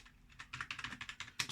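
Rapid keystrokes on a computer keyboard as a terminal command is typed on a Lemote Fedora 28 machine with a Loongson 3A4000 CPU, a steady run of close, crisp clicks with a final firm key press.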